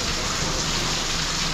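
Steady, dense rain pours down in a continuous hiss, close and fairly loud with no other sounds standing out.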